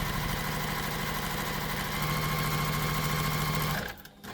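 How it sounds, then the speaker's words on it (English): A sewing machine runs steadily at a short stitch length, stitching along a marked line on a tote bag, its fast even whirr close and continuous before stopping abruptly near the end. "I'm going to take my stitch length down, stitch along this line"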